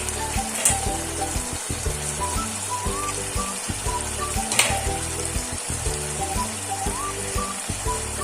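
Small fish fry in a pan of oil for a fish curry, giving a constant crackling sizzle with occasional sharper pops, under tuneful background music.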